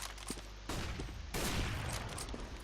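Bursts of rapid gunfire from CS:GO, dense crackling volleys that grow louder partway through, with no talking.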